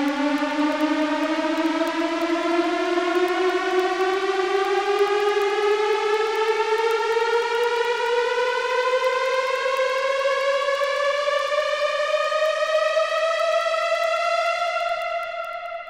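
A synth riser made with Ableton Operator is a single continuous tone rich in harmonics that climbs slowly and smoothly in pitch for about sixteen seconds, staying loud and steady before easing off at the very end.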